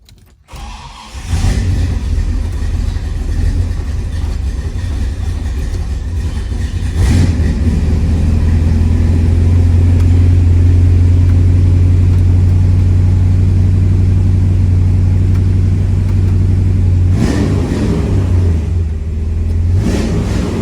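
A 1965 Pontiac GTO with a 389 Tri-Power engine and 4-speed fires up and settles into a loud, close, deep rumbling idle, swelling into sustained revs midway and blipping again near the end.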